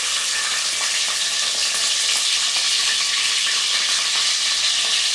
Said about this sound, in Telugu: ఇప్పుడు ఉల్లిగడ్డ పచ్చిమిర్చి వేసుకోవాలి ఇప్పుడు ఇవి ఇట్లా చిట్చిట అన్న తర్వాత ఇవి చేసుకోవాలి